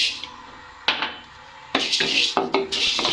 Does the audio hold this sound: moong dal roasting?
yes